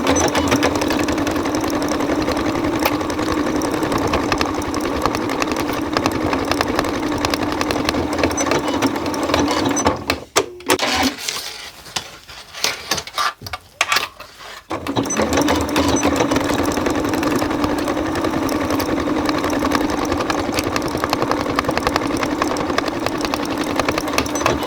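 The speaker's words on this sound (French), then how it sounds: "il n'y a plus qu'à faire la couture de chaque côté" A sewing machine stitches the side seams of a child's Christmas stocking, running loud and steady at close range, stopping briefly midway with a few stuttering bursts, then resuming its continuous whir.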